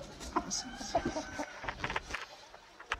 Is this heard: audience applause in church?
no